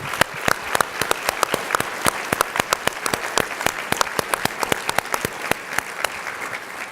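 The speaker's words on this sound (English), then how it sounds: "Please join me in thanking them again for their dedication and applauding them for their accomplishments." An audience at an annual meeting applauds, with sustained, dense clapping for about seven seconds at an even level and no voices.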